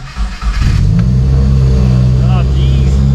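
A Subaru WRX with an FA20 engine and a check engine light cranks and fires up from cold after a brief quiet moment, then settles into a steady, loud idle rumble with voices talking faintly over it.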